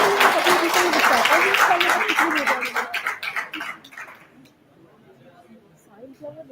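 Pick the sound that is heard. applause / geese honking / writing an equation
applause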